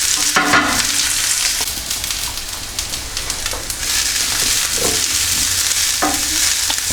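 Onions softening in a frying pan give off a steady hiss and crackle, broken now and then by the scrape of stirring, close and moderately loud, with no talk.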